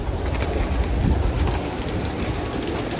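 Pigeons at a large pigeon farm in Egypt make a dense, continuous wash of cooing and fluttering close by, with a busy rumbling undertone and no clear speech.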